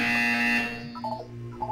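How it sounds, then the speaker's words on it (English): A buzzer in the video game Portal 2 holds a steady, loud harmonic tone for under a second, then fades into quieter, wavering electronic tones. No one speaks. "When you hear the buzzer, look down at the floor."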